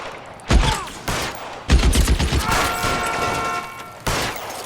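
Gunfire in the L.A. Noire video game: several heavy shots and bursts in quick succession, loud and close, with a rapid rattling volley in the middle and another sharp shot near the end.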